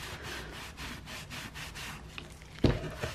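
A rag wipes excess stain off a wooden piece in quick repeated rubbing strokes, soft and close, ending with a couple of sharper knocks.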